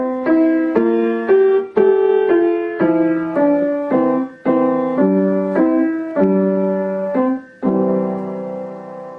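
Piano plays Ode to Joy with an alternate left-hand accompaniment, a steady sequence of clear, evenly spaced notes and chords at moderate tempo, close and alone with no talking.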